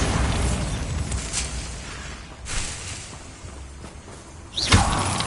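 The Bombarda blasting spell in Hogwarts Legacy goes off in bursts: rumbling, whooshing blasts swell and fade, ending in a sharp, loud explosive crack with a low thump near the end.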